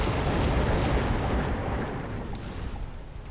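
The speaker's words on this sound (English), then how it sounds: "he's gonna missile strike me" Missile strike explosions in the strategy game Mechabellum form a dense rumbling wall of blasts and deep booms, strongest at the start and easing slightly over a few seconds, with no voices.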